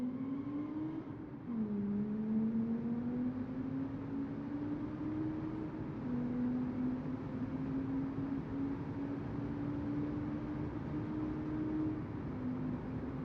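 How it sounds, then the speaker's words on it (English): A steady, muffled video game car engine drone with mufflers fitted, slowly rising in pitch, continuous and fairly quiet, like a car cruising and gently accelerating. "Mufflers are really, really, destroying the noise of the car."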